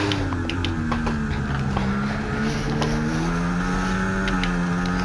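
Formula 1 racing car engines in the video game F1 24 at the Saudi Arabian circuit, a loud continuous high-revving whine shifting pitch with gear changes, several cars close together.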